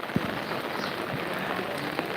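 Light rain falls steadily in a village, a close, even hiss of drops on the ground with a couple of faint taps and no voices.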